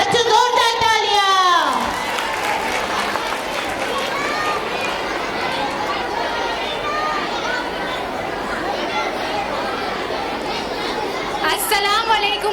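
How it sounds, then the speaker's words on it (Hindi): Children at a high school annual function clap and cheer after a loud spoken announcement, a lively crowd roar with chatter and shouts filling the hall steadily for several seconds. "बच्चों जोरदार तालियां"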